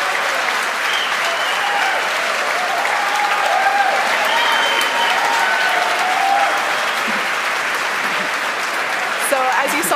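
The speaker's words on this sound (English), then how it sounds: "From the crowd cheers here, Falcon 9 has touched down for the third time." A crowd at a SpaceX Falcon 9 launch cheers and applauds steadily as the booster lands on a drone ship, a dense, sustained wash of clapping and shouts with a few whistles, loud and unbroken throughout.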